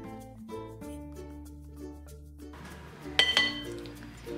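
All-purpose flour, sugar, salt and dry yeast are mixed in a bowl for soft milk bread. A couple of sharp, bright clinks of a utensil against the bowl sound near the end, over soft background music.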